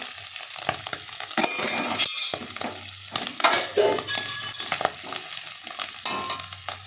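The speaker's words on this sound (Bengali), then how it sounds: "রসুনটা একটু ভেজে নেব" Garlic fries in oil as a bright, close sizzle with bursts of crackling, punctuated by stirring and the clink of a utensil against the pan.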